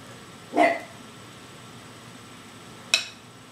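A dog barks twice indoors, one sharp bark followed about two seconds later by a shorter second one, fairly close against a quiet room.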